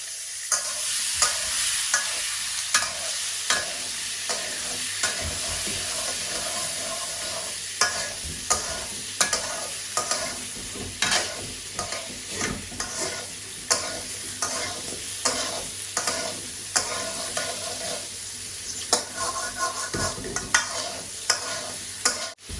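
Potatoes frying in a pan in a village kitchen, a loud constant sizzle with frequent irregular stirring scrapes and clatters throughout, close up and without speech.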